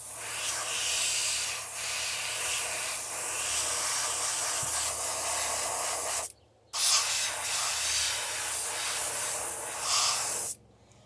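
An airbrush hisses loudly in long continuous bursts as it sprays paint onto a thin crankbait, pausing briefly twice between passes.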